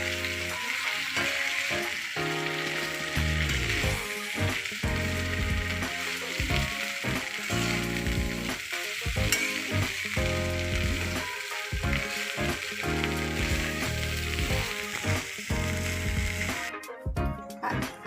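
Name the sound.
mixing and frying Indori poha with lemon juice in pan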